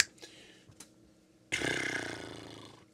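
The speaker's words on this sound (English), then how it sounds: "I typed in girl burp, and there is a lot of girls who burp on YouTube" A woman lets out one long, loud, rough burp after a fairly quiet start with a few faint bumps, heard alone and close.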